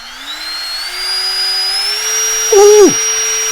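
Dremel 8260 Bluetooth rotary tool spinning up with a thin, rising whine that settles into a steady high hum, then briefly dips and recovers, fairly quiet and close.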